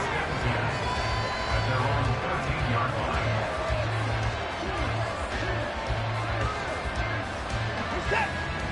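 A football stadium crowd during a Kansas City versus Browns game makes a dense, continuous roar and murmur of many voices, fairly loud and steady throughout, with an announcer talking over it.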